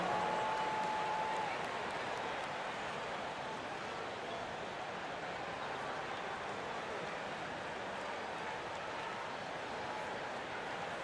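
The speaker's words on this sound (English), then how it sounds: "A big round of applause for your Wizards Breaker." Steady broadband crowd applause and cheering fills a simulated NBA basketball arena during an Indiana Pacers versus Washington Wizards game, loud and sustained throughout with no gaps.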